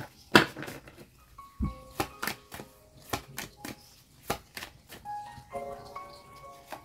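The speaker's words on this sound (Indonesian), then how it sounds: "Aku tarik dulu semua kartunya." Tarot cards are drawn and handled close up, a sparse series of sharp slaps, flicks and soft taps as cards are pulled and laid down, with quiet gaps between them.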